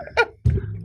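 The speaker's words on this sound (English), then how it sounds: "Why am I coughing in this?" A single short cough from a man during a casual podcast conversation, a close, abrupt burst lasting well under a second.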